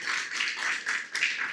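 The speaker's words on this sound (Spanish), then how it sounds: "Damos un aplauso al Señor y a su palabra" A church congregation applauds in steady, dense clapping that runs the whole moment at a modest, somewhat distant level, with no talk over it.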